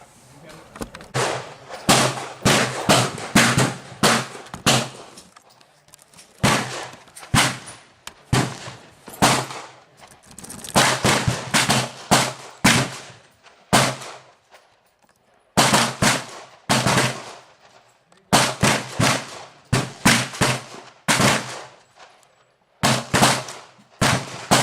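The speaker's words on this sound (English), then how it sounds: "I'll be using my Smith & Wesson 686 for the test." A Smith & Wesson 686 revolver fires light .38 Special handloads outdoors, loud sharp shots in steady strings of five or six with short pauses between groups, repeating throughout.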